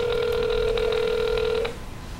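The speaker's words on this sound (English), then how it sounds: "I'm going to go ahead and dial our demo phone number for our dental enrollment" A telephone line rings once with a steady electronic tone that lasts well over a second, heard alone after a demo number for a dental insurance enrollment line is dialed.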